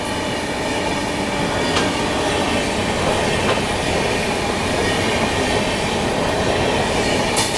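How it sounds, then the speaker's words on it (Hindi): The Telangana Express passes through Nizamuddin railway station with a loud, continuous rolling rumble and rhythmic clickety-clack of wheels over rail joints, plus faint metallic squeals, heard close with no talking. "तेलंगाना स्किप करते हुए निजामुद्दीन रेलवे स्टेशन निकल रही है अपने से पहले।"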